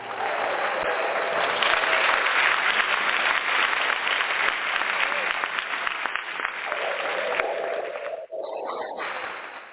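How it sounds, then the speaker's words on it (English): Loud, sustained applause with cheering from a crowd honoring the Tampa Bay Bucs, a dense clapping roar that holds nearly ten seconds before briefly dipping near the end. "Let me give a loud round of applause to the Tampa Bay Bucs."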